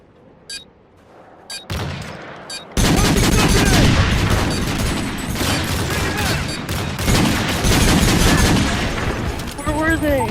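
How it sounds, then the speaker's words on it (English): A flashbang grenade bursts in a first-person shooter video game with a sudden loud blast, followed by several seconds of dense, crackling, gunfire-like noise, with game voices mixed in. "Probably flashbang."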